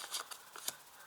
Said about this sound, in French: Alors j'ajoute une carte.